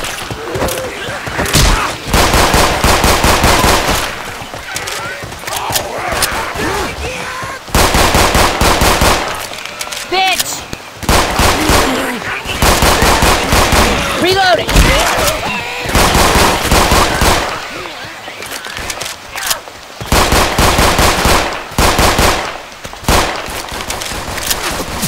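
The Blacktail pistol from Resident Evil 4 Remake, modded into Left 4 Dead 2, fires loud, rapid shots in dense bursts over about 25 seconds, with short pauses between volleys and zombie-game action underneath.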